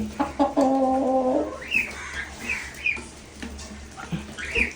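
A Chinese breed rooster in a backyard gives a short run of harmonic clucking calls near the start, followed by scattered higher chirps and clucks from birds, fairly faint against quiet background noise.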